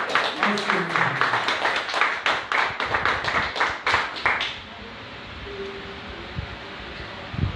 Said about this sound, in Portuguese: Vamos dar uma salva de palmas bem forte ao Senhor.